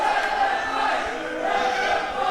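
Wrestling crowd in an indoor women's wrestling show (Femmes Fatales) cheering and shouting steadily after a double disqualification, a dense, continuous roar of many voices with no clear breaks.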